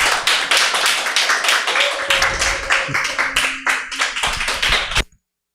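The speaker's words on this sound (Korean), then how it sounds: "우리 나올 때 박수로 환영하도록 하겠습니다" A church congregation claps to welcome its publicity team, a dense crackle of many hands going steadily for about five seconds, with a faint tone and murmur mixed in, then it stops abruptly into silence.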